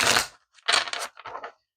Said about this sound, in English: Feels weird to shuffle such a small deck.